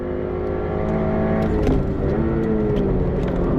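A Subaru BRZ powers around a track on a hot lap, its engine a loud, continuous close drone that climbs steadily in pitch as it accelerates, with no talking.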